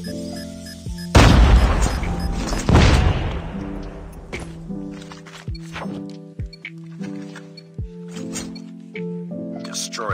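A frag grenade goes off in a shooter video game: two heavy close booms about two seconds apart, followed by scattered clicks and faint game effects over background music.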